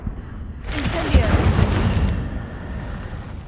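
A fire spell cast in the video game Hogwarts Legacy: a sudden whooshing, roaring burst with crackling flames that swells, then fades over a couple of seconds.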